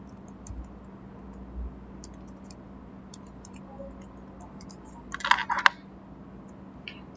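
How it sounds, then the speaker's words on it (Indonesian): Keystrokes on a computer keyboard while a command is entered into network router software: sparse, light taps through the first few seconds, then a quick cluster of sharper clicks near the end, heard alone in a quiet room. "Kemudian kita bisa ketikkan no shutdown."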